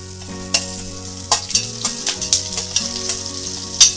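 Green chillies dropped into a pan of roasting peanuts sizzle loudly, with sharp crackles and pops bursting out irregularly over a continuous frying hiss.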